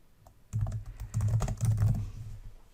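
Keys clatter in quick irregular bursts as code is typed on a computer keyboard, close and moderately loud with no voices, after a brief quiet start.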